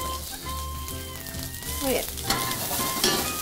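Onion frying in olive oil in a pan gives a loud, close, crackling sizzle throughout, with a brief spoken remark and faint background tones over it.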